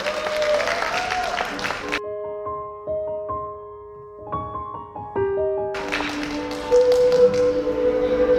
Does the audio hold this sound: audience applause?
yes